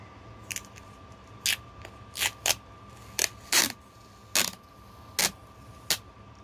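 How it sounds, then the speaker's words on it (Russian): Label torn off a small AGM car battery from a Mercedes G, about ten sharp ripping bursts in an irregular rhythm, close and distinct over a quiet hum. "Отрываем наклейку, этикетку и пытаемся добраться внутрь."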